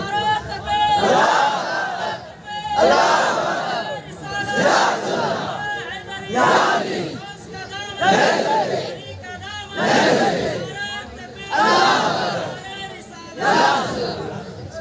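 A crowd at a religious sermon chants slogans in loud, rhythmic bursts roughly every two seconds, many voices shouting together in unison with brief pauses between each roar.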